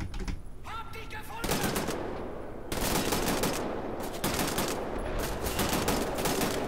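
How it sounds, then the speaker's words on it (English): Rapid automatic gunfire from the video game Wolfenstein: The New Order, loud sustained bursts with brief gaps between volleys. "Should've used that gun."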